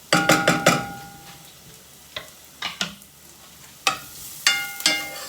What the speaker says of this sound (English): Let it all fry up together.